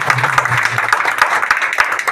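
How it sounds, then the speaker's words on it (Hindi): An audience at a political rally breaks into brisk applause, a short burst of close, uneven claps with a faint voice in the background at the start. "यह सीधी ताली में जवाब देंगे।"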